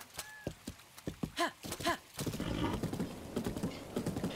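Horse hooves and neighing in the video game Zelda: Breath of the Wild: a string of hollow clip-clop steps, then two loud whinnies close by, followed by busier trotting hooves with a rustling background.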